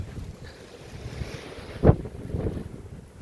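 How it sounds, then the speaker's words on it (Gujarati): Steady outdoor wind roaring and buffeting, with a sharp gust burst midway and a low rumble throughout, no voices. "પવન પણ બારે બહુ છે"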